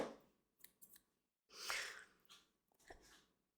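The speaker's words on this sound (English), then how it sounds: "to cut my hair" Scissors snipping through hair, a handful of crisp close cuts in short bursts separated by quiet pauses, with soft breathing in between.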